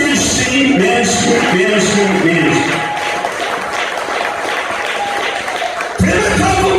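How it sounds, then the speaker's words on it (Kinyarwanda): Congregation at a church gathering in Rubandaga, Uganda, applauding loudly in a sustained wash of clapping mixed with voices and calls, a speaker's voice running over it before a sharp break near the end. "Muyikomere amashyi menshi"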